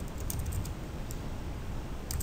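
Fingers tap out a website address on a computer keyboard, producing quiet, scattered key clicks over a soft noise floor.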